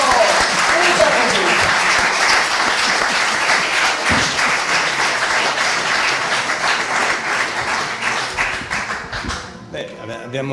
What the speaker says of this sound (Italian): Un applauso per queste poesie, dai